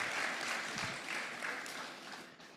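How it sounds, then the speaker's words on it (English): Applause from conference attendees at a directors' meeting as a speaker walks back to his seat, a soft, distant, even clatter of clapping that tapers off toward the end. "Let's give him a round of applause as he makes his way to his seat."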